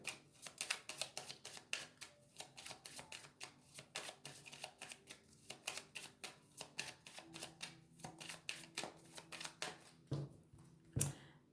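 Tarot cards being shuffled and cut by hand, a quick run of crisp riffling flicks and taps in uneven bursts, faint and close, ending in a few sharper slaps as the deck is squared.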